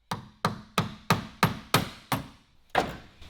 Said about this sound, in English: I'm using a wood chisel for this. It's worked pretty well, but I'm positive it's not the right tool.